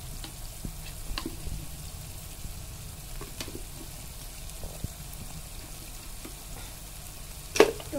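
Ginger, garlic and chillies go into browned onions for a chicken masala gravy, a low steady sizzle and frying hiss with scattered stirring scrapes and a sharper clatter near the end, no talking.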